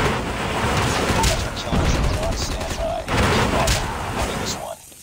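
Rapid gunfire from a player's gun in COD Mobile, dense continuous bursts filling the clip up close and loud, with a short break around three seconds and a cutoff near the end; voices chatter underneath.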